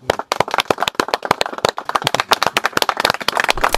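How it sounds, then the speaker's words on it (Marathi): A group clapping hands to congratulate a farmer, dense rapid applause from several people, close and lively throughout. "मला पहिलं या शेतकऱ्याचं टाळ्या वाजून अभिनंदन करायचंय."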